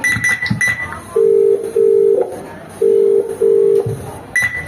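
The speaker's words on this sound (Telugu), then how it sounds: "ఏంటి నాన్న ఫోన్ లిఫ్ట్ చేయట్లేదు?" A phone call rings out unanswered: a steady electronic ringback tone in paired bursts, two long beeps, a pause, then two more, fairly loud and clear, with short higher beeps at the start and end.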